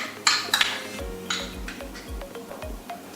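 Utensils scrape and clink against a bowl while poke bowl ingredients are stirred together, with a few sharp clinks early on followed by a steady rhythm of soft repeated scraping strokes, close and fairly loud, with no talking.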